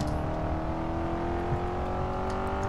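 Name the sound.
race car engine revving in Grid 2 video game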